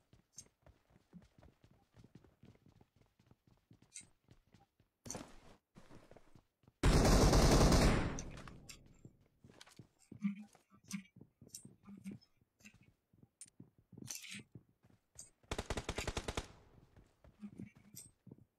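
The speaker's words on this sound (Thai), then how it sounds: "เพื่อนกูมันยิงกับใครวะ" Rapid gunfire crackles in a PUBG match: quick clusters of shots and bursts, including one loud, sustained volley, spread among quieter clicking and footstep-like taps, with a little talk between.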